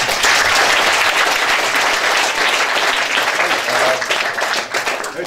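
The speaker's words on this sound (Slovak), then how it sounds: "Ja si myslím, že potlesky to zaslúžim." Loud, dense applause from an audience at a Slovak discussion evening with the national team's assistant coach in Šamorín, a steady wash of clapping sustained throughout and easing slightly toward the end.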